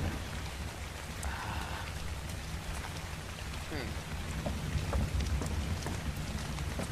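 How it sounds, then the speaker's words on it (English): Steady rainfall in ARK: Survival Evolved patters continuously on surfaces, with scattered drop ticks and a faint low rumble beneath, holding an even level throughout. "it's raining, that's not fun"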